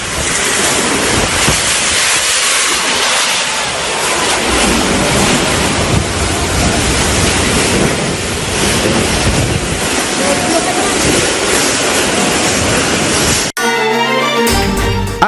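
A strong whirlwind tears through a residential area of Pabelan, Semarang Regency, Central Java, toppling trees and power poles: a loud, continuous roar of buffeting wind fills the scene, then gives way abruptly to a short burst of music.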